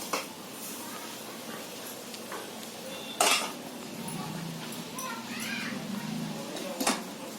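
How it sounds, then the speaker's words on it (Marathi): Metal cooking vessels set down over a pot of boiling water for steaming in a home kitchen, giving a few clattering clinks, a sharp one near the middle and another toward the end, over a steady background hiss. "आता त्याच्यावरती ही भांडी ठेवते."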